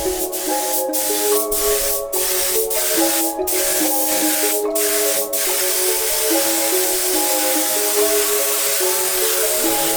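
Clear coat being sprayed over the freshly painted white interior of a racecar in a backyard setting, a steady close airy spray hiss that runs continuously with short sharp bursts at the start, over a faint layer of tonal background music.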